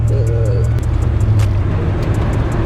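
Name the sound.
manual car engine while shifting gears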